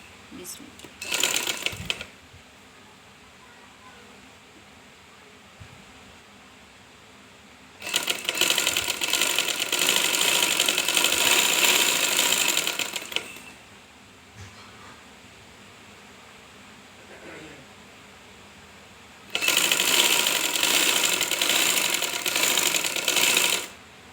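A sewing machine stitches a design onto a kameez shirt in three bursts, a short one and then two long runs of fast, loud whirring chatter, with quiet room noise between them.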